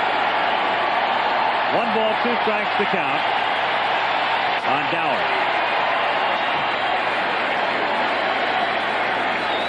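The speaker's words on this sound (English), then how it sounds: "Crowd has really come alive." Stadium crowd noise fills the background throughout a 1983 World Series Game 2 between the Phillies and Orioles at Baltimore, a steady roar of the crowd beneath a broadcaster's play-by-play commentary.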